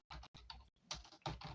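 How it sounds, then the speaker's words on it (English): A search is typed into a web browser on a computer keyboard, a brief, faint run of quick, close key clicks in a steady patter. "we will just type in and search for PyCharm"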